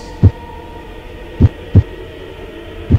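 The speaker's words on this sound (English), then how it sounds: "For many minutes, the heart beat on with a muffled sound." Heartbeat sound effect: muffled, deep thumps come singly and in close pairs at an uneven pace over a low steady hum, loud and near with nothing else around them.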